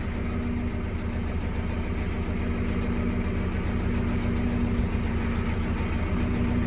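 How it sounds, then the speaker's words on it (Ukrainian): A tractor engine idles with a steady low drone and rattles, with a clutchless gearbox clattering along underneath, continuous and fairly close throughout with no talking. "Це тут коробка стоїть, оця ж моднява, що без сцеплення, гур і торохтить собі."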